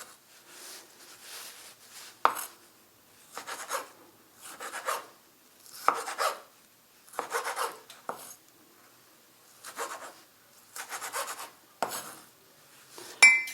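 A knife chops a tomato into small pieces on a board in short, close bursts of rapid cuts separated by brief pauses, repeated about ten times.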